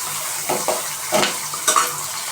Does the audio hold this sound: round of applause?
no